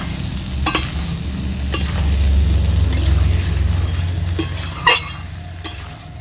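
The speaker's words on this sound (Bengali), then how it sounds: "সব কিছু ভালোভাবে আমি নেড়ে চেড়ে নেব" Mixed monsoon vegetables stirred and sautéed with spices in a pan with a splash of water, a steady low sizzle under repeated scraping strokes of a spoon against the pan, close and fairly loud.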